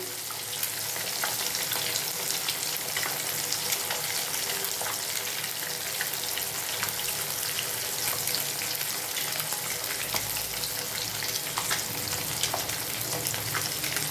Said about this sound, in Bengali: মাছটা একটু আপনারা যেরকম ভাজা পছন্দ করেন সেইভাবে ভাজবেন।